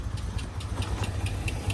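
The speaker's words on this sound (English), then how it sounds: "That's why your engine is running poorly." A 1999 Mercedes ML320 engine idles roughly with an air leak through a hole in its intake hose. It makes a steady, close, low rumble with faint regular ticking pulses, and no one speaks.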